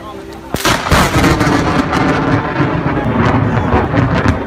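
A loud, sudden thunder crack opens into a heavy, sustained rumble that rolls on and fills the air during a rare snow and lightning storm in southern California.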